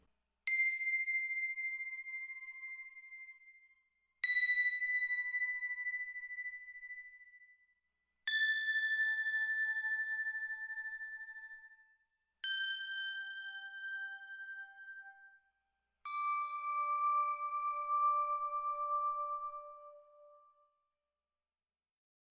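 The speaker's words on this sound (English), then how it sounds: "we've got these Tingsha Bells" Sampled Tingsha bells ring five separate times, each strike a clear, sustained metallic tone that slowly fades, every ring pitched a little lower than the one before, heard alone with silence between.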